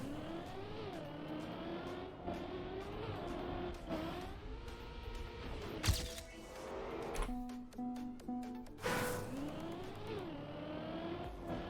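Car driving in a racing video game, the engine whining and revving continuously with pitch rising and falling through gear changes, plus a couple of sharp impacts midway, loud and close, with no talk.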